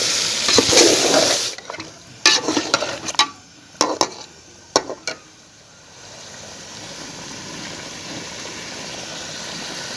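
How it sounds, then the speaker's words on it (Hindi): Chicken frying and being stirred in a pan for restaurant-style chicken korma: a loud sizzle at the start, then several sharp spoon-scraping stirs, settling into a steady low frying hiss. "चिकन डाल के इसे अच्छी तरह बनाना है।"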